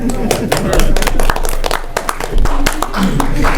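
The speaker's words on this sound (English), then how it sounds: "See, I know how to get people to applaud for my report." Attendees at a school board meeting clap in a dense patter of sharp, close claps that carry on steadily for a few seconds.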